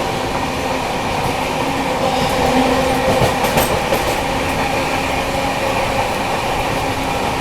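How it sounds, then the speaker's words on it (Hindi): Vikramshila Express running alongside a slow freight train just past Khurja Junction, a dense, loud, continuous roar of wheels on rails with rhythmic clatter and a brief metallic squeal midway, no talking. "खुर्जा जंक्शन से निकलते ही देखो अभी पैरेलल चल रहा है यहाँ पर मालगाड़ी के साथ।"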